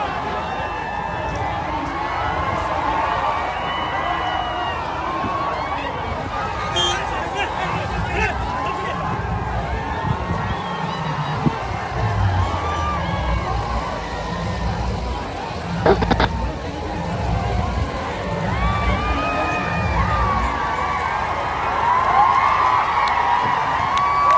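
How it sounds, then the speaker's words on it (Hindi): Large crowd at a Priyanka Gandhi election rally in Nandurbar, Maharashtra: a steady roar of babble and cheering with scattered shouts and whoops, dense and continuous throughout. "ये प्रियंका गांधी की वहां सभा हुई है, वहां की भीड़ देखिए, जन सैलाब"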